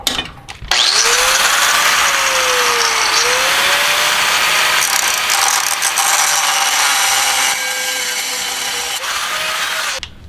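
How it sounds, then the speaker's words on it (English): An angle grinder cuts through a rear axle shaft on a Lexus LX470, a loud, close, continuous high whine and grinding roar that runs nearly the whole time, starting abruptly after a brief knock. "So I made some progress with the angle grinder"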